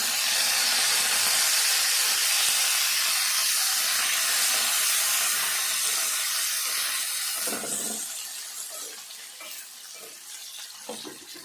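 Green chilies frying in a pan for a tamarind chutney give a steady, loud hiss and sizzle that eases off toward the end, with a few faint stirring knocks and no talking.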